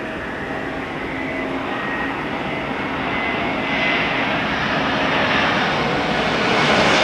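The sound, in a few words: China Southern airliner landing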